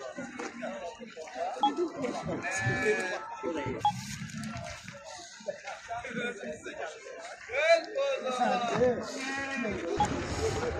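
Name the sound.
goats bleating at a livestock market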